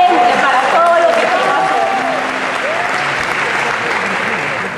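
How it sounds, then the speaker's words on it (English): A pageant audience at Miss World 2006 applauds loudly and steadily throughout, with a voice speaking over the clapping near the start. "You got a round of applause for your legs."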